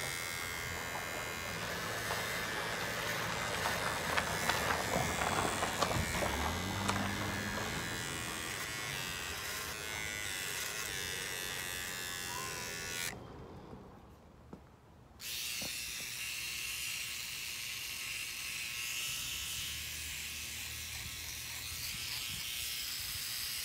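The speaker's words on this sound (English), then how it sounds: "So I'm gonna get shaving." An electric shaver buzzes continuously close to the mic while shaving, a steady raspy hum that cuts out briefly partway through and then resumes.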